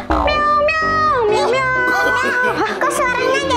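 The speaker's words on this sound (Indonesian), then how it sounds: "Kok suaranya jadi kucing?" Voice sung into a toy karaoke microphone comes out as cat-like meows, a string of loud, close, warbling mewing tones with a voice mixed in.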